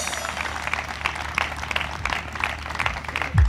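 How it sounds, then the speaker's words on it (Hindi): Church congregation clapping during a worship service, a loose, uneven patter of hands with scattered louder claps, fairly close and moderate, with a low thump near the end. "तालियां लगातार बजती हैं"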